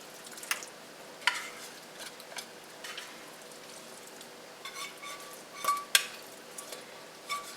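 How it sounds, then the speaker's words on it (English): Rice is scooped into a pot of Mexican soup with black beans, giving scattered soft scrapes and grainy clinks at close range, with no talk. "We're going to scoop in our rice."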